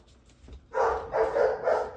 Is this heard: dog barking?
yes